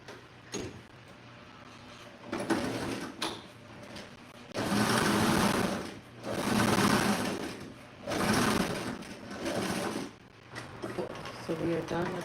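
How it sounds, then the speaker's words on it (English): A sewing machine runs along the seam of a cozy bed pillow in several pulsing, moderately loud bursts of whirring over a low background hum. "and then I just need to go back and sew this side."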